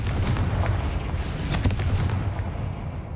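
Confringo fire-blast spell in Hogwarts Legacy: a dense, rumbling, explosive burst with booming low end and crackling debris over about three seconds, loud and sustained, no talk.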